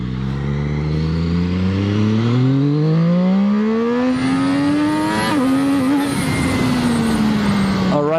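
A Zhang Xue 820RR motorcycle engine rising in pitch as it accelerates through a U-turn, a loud, close, smooth rising whine with a brief dip as the throttle eases, then holding steady.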